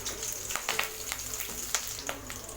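Garlic and green chillies sauté in hot oil with a soft, crackling sizzle broken by several sharp pops and spatters, fairly close and steady.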